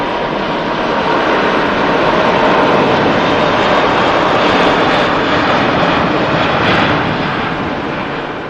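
An Airbus A380 jet rolls for takeoff at Manchester Airport, its engines giving a loud, steady, broadband roar that swells slightly and holds throughout, close and overwhelming with no voices.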